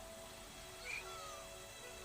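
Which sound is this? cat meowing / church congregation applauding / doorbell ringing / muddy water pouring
cat meowing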